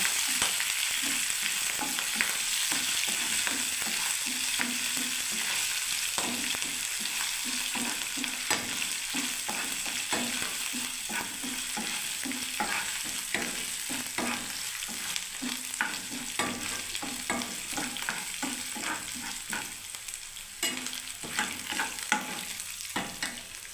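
Dal, chana dal, peanuts and green chillies fry in a pan with a constant close sizzle, while rhythmic stirring scrapes repeat throughout and no one speaks.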